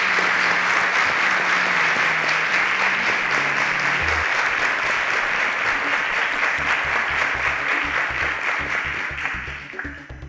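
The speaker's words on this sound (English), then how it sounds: "Round of applause." A studio audience on a reality elimination show breaks into sustained applause, dense steady clapping lasting the whole stretch with a low musical bed underneath, tapering slightly at the end.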